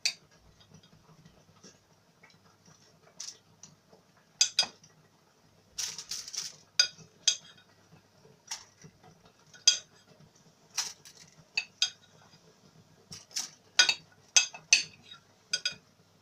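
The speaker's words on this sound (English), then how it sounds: "So I'm going to be placing my meat onto my tray" Pieces of raw goat meat are set down one by one on a metal tray, sparse sharp clinks and taps scattered irregularly against near silence.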